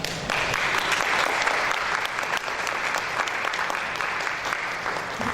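A large audience applauds the panelists at a San Antonio housing plan event. The dense, steady clapping runs loud and unbroken throughout, with no voices over it.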